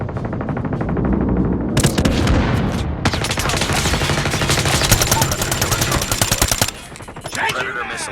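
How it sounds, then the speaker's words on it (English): Sustained rapid gunfire from a strafe run in Call of Duty Mobile, a loud, dense rattle of automatic fire that runs almost nonstop for about seven seconds, then drops off abruptly near the end. "We have called in a strafe run."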